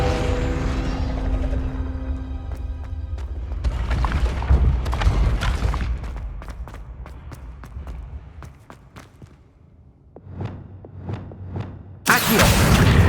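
Confringo fire spell in the Hogwarts Legacy video game, a series of booming blasts and crackling impacts over a low game score, with sharp hits recurring and a loud burst at the end.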